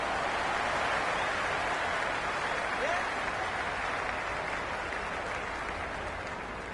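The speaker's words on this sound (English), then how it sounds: "The crowd are really getting quite raucous." Continuous roar of a raucous cricket stadium crowd cheering and applauding in the Cricket 26 video game, a steady wash of noise that fades slightly toward the end.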